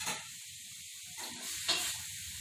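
Mushrooms hitting a hot pan with peppers, garlic and shallots, giving a steady soft sizzle and hiss throughout, with a couple of brief louder crackles.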